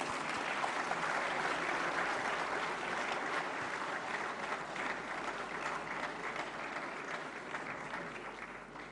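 Audience applause at the 68th National Film Awards ceremony honouring the best child artist, a dense, steady wash of many hands clapping that fills the whole stretch at even loudness and fades slightly toward the end.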